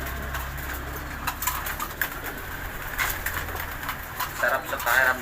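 Pet German Beauty Homer pigeons coo softly and repeatedly in a loft, their low, rolling calls steady in the background while people talk nearby.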